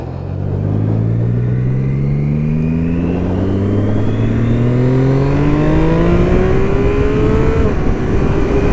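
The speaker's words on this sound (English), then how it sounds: "I'll try this quick shifter out on here now." Triumph Street Triple 675 Rx motorcycle accelerating hard through the gears with a quick shifter, the engine note climbing steadily with brief dips at each rapid upshift, loud and close with no talking.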